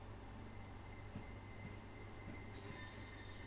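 A Southeastern high-speed train running in Train Sim World 2 on PS4 gives a steady, low rumble with faint rail and wheel noise that continues evenly throughout, with no talking.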